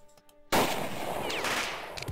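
A sudden loud burst of sustained machine gun fire in the Jagged Alliance 2 game cuts in after a quiet moment and rattles on steadily to the end.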